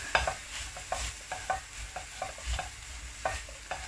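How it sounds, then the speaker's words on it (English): Onions, cabbage and other vegetables are stirred in a pan with toasting curry powder, a soft, steady sizzle broken by regular scraping and tapping strokes of the spoon, close but fairly quiet, no talking. "So just gonna mix my veggies up"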